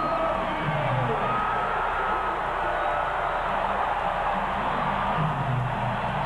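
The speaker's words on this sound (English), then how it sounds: "Listen to this ovation." Arena crowd at a 1988 NBA Western Conference semifinal game, giving the Utah Jazz a sustained standing ovation: a steady roar of cheering and whooping that holds at one level throughout, with a faint voice underneath.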